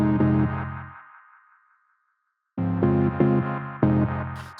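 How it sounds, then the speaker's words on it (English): Lo-fi house synth chords pass through a dub-style delay, their echoes fading into a long tail and silence before the stabs return in a bouncy, repeating rhythm. "It's almost like a dub delay."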